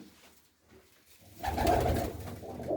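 Pigeon cooing rises loud and close after a quiet opening, a rich throaty burst filling the second half.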